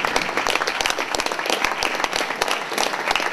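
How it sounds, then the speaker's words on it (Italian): Audience applause at a film festival award ceremony in the mountains, dense and steady clapping from a crowd filling the room, loud and continuous without talk. "vi chiedo di applaudirlo"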